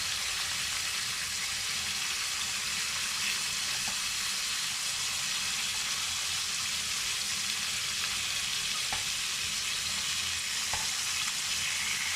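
Marinated chicken wings pre-fry in a pan with a dense, steady sizzle close up. Faint crackles come through now and then over about twelve seconds, and no one speaks.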